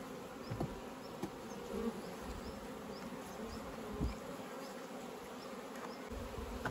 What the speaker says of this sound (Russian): Здесь пчела.